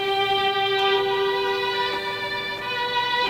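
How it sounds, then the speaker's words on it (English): A sustained, steady Mellotron three-violins tape sample chord played on a GMS-1340 Polywav player, slightly thin and tape-like, held evenly throughout without breaks. "which is the 3 violin sample, and it sounds like this."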